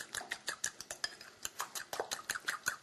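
A utensil clinks and taps steadily against a bowl while pumpkin tart filling is stirred, a quick, fairly regular series of close, light knocks heard alone at low volume.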